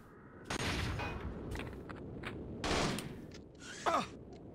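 Three bursts of gunfire sound in the video game Killzone Liberation, spaced about a second apart, with a breathy grunt or sigh after the last one.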